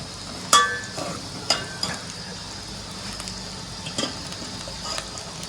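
Egg and garlic masala fries in a pan as it is stirred, giving a continuous soft sizzle broken by a few sharp scraping knocks of the utensil against the pan.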